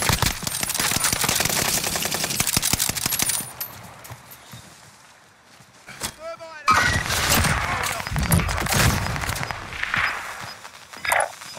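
Rapid automatic gunfire from the BAR in the video game Call of Duty: Warzone, dense close bursts fading out, followed by a brief gap with tinkling casings and more loud shooting and game noise.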